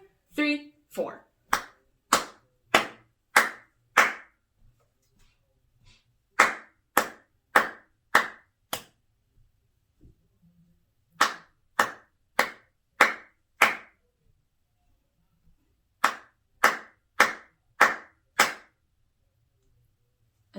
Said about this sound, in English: All right, let's clap this now